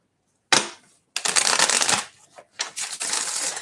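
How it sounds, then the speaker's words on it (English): Tarot cards are shuffled up close in a reading: a short riffle, then a longer run of crisp flapping card noise, a brief gap, and another burst, with no voices. "All right, Virgo, one more shuffle for you."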